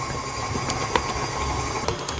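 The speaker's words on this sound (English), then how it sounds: "now I can turn the mixer up to a high speed, and I'm gonna mix for 10 minutes until that dough cleans the sides of the bowl" A stand mixer running at high speed while kneading pizza dough, a steady loud mechanical whir with a constant motor hum and occasional light knocks from the bowl.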